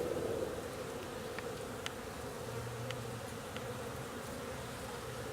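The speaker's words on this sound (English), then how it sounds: "Just wanted to document the number of bees with the bee activity on the hive." Honeybees flying around a beehive entrance in late March in early spring, a steady, dense buzzing hum with a few individual bees droning close past, continuous throughout.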